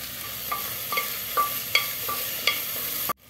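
Cubed potatoes go into a pan of onions frying in oil, giving a steady sizzle with several short scraping stirs spaced through it, then a sudden cutoff at the end.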